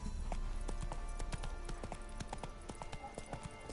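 Roach the horse gallops in The Witcher video game, a steady, rapid run of hoofbeats at moderate distance, fairly quiet and unbroken.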